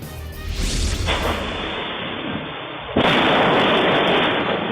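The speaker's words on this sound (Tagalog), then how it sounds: "magulantang ng malakas na pagsabog ang mga residente" An LPG tank explodes in a house: a loud, sustained roaring blast fills the recording, with a second abrupt surge of harsh noise partway through, close and overwhelming.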